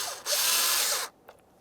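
Short burst of a power drill whirring loudly for about a second while driving a mounting screw into car trim on a 2008-2017 Mitsubishi Lancer, then stopping, followed by a faint click.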